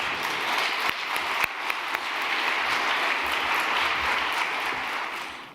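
Sustained audience applause fills the room to welcome Cheryl Gladu to the stage at an evening talk on smart cities, steady dense clapping with a few sharper claps, continuing throughout without speech.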